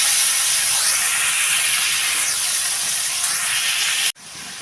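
Diced potato and pointed gourd hit hot oil in a pan, giving a loud, steady, hissing sizzle that holds evenly for about four seconds before cutting off sharply.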